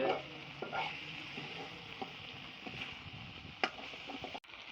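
Beef sautéing in a pan with steady frying sizzle and intermittent scraping stirs, a sharp clack near the end, close and fairly quiet.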